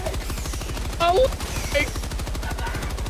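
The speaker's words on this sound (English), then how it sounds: "I'm getting tore up by this stupid turret" A turret in the Helldivers video game fires a rapid, continuous burst of machine gun rounds, a dense rhythmic rattle running throughout, while a player shouts over the gunfire.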